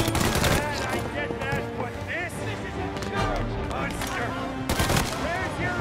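Tommy gun fire in the 1930s gangster game Mafia Definitive Edition, crackling bursts and single shots mixed with chase noise and a voice talking over the action throughout.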